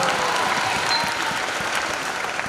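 Sustained applause from a conference audience, a dense, steady wash of many hands clapping at once, loud and continuous with no voices standing out.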